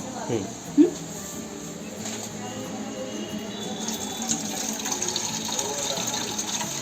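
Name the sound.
washing soaked black beans (kaalya ghevdya) in water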